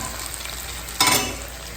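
Steady oil sizzle in a pan, with a sharp louder burst of crackling midway as spices hit the hot oil for a tempering, then settling back to a constant hiss.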